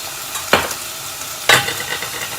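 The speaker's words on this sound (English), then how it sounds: "So give it a nice stir." A spoon stirs an Anglo-Indian lamb stew of meat and vegetables in a pot, two distinct scraping stirs about a second apart over a steady low sizzle.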